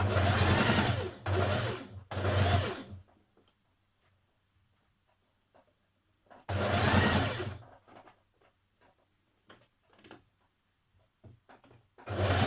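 A sewing machine stitches the neck facing of a Simplicity 8384 dress, running in two close, steady bursts of rapid needle strokes separated by a quiet pause with faint handling noises.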